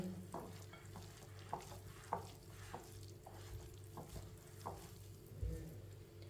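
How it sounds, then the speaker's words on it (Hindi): A spoon stirs thick potato and spinach pakora batter of gram flour and water in a bowl, giving soft, wet, irregular scraping strokes close by over a low steady background hum, with no talking. "अच्छी तरह मिक्स कर लेंगे पानी डाल के।"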